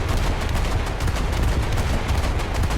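Naval guns from a Brooklyn cruiser fire in War Thunder, a dense, loud, continuous barrage of rapid booming shots with no pauses.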